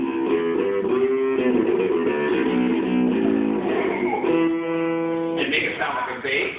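An electric violin pushed through effects into a lower, bass-like register, playing sustained, rich bowed notes that change pitch in steps, then jump higher near the end, loud and close.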